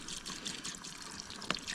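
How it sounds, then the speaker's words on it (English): Water from a bottle is poured into a cooking pot of noodles at a winter truck campsite, a steady trickling splash with a brief brighter spill near the end, close and moderately quiet. "I'm gonna crack into this water here and add just a little bit of water"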